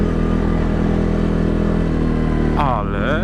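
A Kymco MXU 700 ATV engine drones loudly and steadily up close while being ridden. A voice breaks in briefly near the end.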